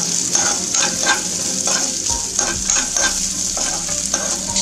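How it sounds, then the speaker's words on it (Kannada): Dry fruits fry in hot ghee on a low flame for sheer khurma, giving a steady close sizzle while a spoon stirs and scrapes the pan at intervals. "ತುಪ್ಪ ಬಿಸಿ ಆದ ತಕ್ಷಣ ಈ ಎಲ್ಲ ಡ್ರೈ ಫ್ರೂಟ್ಸ್ಗಳನ್ನ ಹಾಕೊಂಡು ಫ್ರೈ ಮಾಡ್ಕೊಳ್ಳೋಣ"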